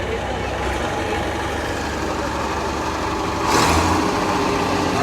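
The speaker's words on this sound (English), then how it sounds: "Big Farm All tractor." A big Farmall tractor rumbles past in a small-town Czech festival parade, its engine a steady loud chug that swells as it nears, with an announcer talking over it.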